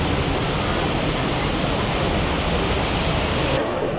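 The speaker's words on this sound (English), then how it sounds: "Come into these waterfalls." Indoor waterfalls in a Polynesian resort lobby pour with a steady, dense rushing hiss, loud and close, cutting off sharply in the treble near the end.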